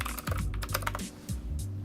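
Rapid clacking keystrokes on a budget mechanical keyboard under $30, a close, busy run of individual key presses with a few short pauses.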